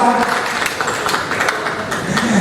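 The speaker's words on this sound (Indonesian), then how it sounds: "Kita berikan tepuk tangan dong." A crowd applauds at a press conference and launch event in Jakarta, with sustained, even clapping from many hands and a voice briefly audible near the start and end.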